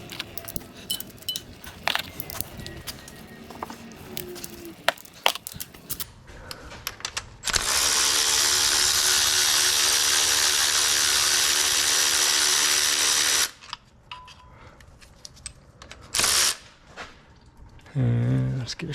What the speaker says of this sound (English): we'll undo the starter now